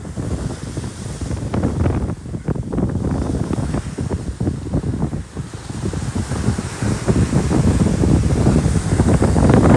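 Strong wind buffets the microphone at Bang Saen beach in Chonburi, a loud, continuous roar mixed with the wash of surf that swells even stronger toward the end, with no talking.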